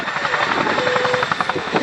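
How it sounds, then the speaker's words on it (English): A Chinook twin-rotor helicopter hovers and reverses at an air show, its heavy rhythmic rotor thud and engine whine loud and close, steady throughout the short stretch. "see a Chinook party piece, one of the only helicopters in the world that can reverse on 2 wheels"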